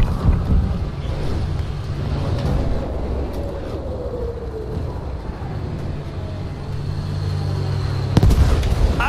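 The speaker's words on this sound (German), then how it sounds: "Artillerie! Anton 1, feindliche Artillerie auf dem Hauptplatz." Battlefield V enemy artillery fire hits with rumbling explosions and bursts under steady low wind-like noise, with a loud sharp blast near the end.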